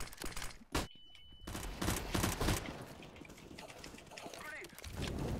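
AK rifle gunfire in the CS:GO game, with quick bursts of shots over busy game noise. Louder cracks come early in the clip, and more action follows.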